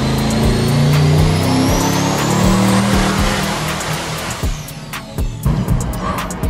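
Twin-turbo LS engine making about 1700 hp roars at full load on a dyno, a loud sustained pull that rises in pitch and then drops away into a rougher, pulsing idle with sharp pops near the end.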